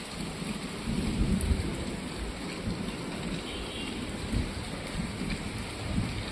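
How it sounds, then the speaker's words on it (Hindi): Sudden heavy rain pours down steadily with rolling thunder rumbling through, a dense continuous wash of falling water with deep low booms, close and loud throughout. "और अब अचानक से आ गई है बारिश"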